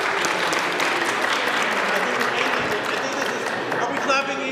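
A conference keynote audience claps together to call the room to attention, a dense continuous burst of clapping from many hands with some voices mixed in, loud and close, holding steady before tailing off.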